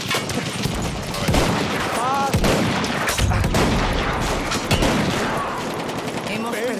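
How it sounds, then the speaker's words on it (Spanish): Gunfire from a lever-action rifle in the video game Battlefield 1, loud dense shots and bursts filling the whole stretch amid a busy battlefield, with a voice briefly speaking in the mix. "Es un rifle de palanca."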